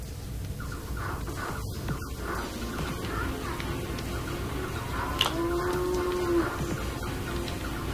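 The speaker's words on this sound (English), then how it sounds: "Okay, fighting a cow." Cattle moo in a Sega CD video game amid busy game music and effects, a drawn-out lowing call rising out of the mix near the end.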